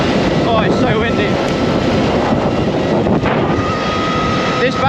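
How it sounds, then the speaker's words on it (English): Strong wind roars and buffets the microphone continuously, a loud rumbling wash covering the whole stretch. "Oh, it's so windy."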